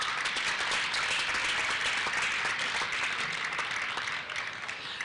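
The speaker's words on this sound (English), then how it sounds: "claps for Ambai, claps for Nirupama" A literature festival audience applauds panel speakers with a continuous crowd of clapping hands that holds evenly for several seconds and softens slightly near the end.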